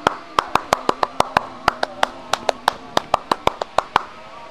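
Pramuka scouts clap in a sharp rhythmic pattern, about twenty crisp, evenly spaced claps close by, with faint background murmur between them.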